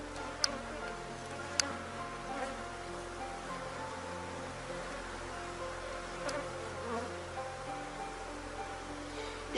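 Honeybees hum during a beehive inspection, a soft, steady buzz with wavering pitch that rises and falls as the bees move near the frames. A few sharp ticks punctuate the buzz.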